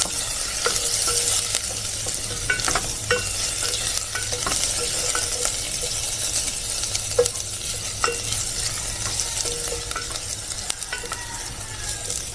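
Ginger sautéed in a pan for papaitan: a steady close sizzle with repeated scraping stirs and occasional light metallic clinks, with no voices.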